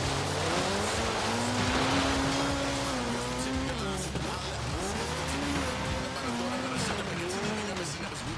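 A car in the racing video game Forza Horizon 3 drifts, its engine note swooping up and down in repeated arcs over a continuous tire squeal. The sound is loud and steady throughout.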